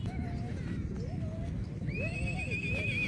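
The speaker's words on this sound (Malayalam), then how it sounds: "ആ ഇവിടെ ഷെഡിൻ്റെ ഉള്ളിൽ കുതിര ഉണ്ട്." Horses at the Pushkar horse fair, kept inside a shed, whinny repeatedly at close range, with hoof clip-clop and busy crowd murmur throughout.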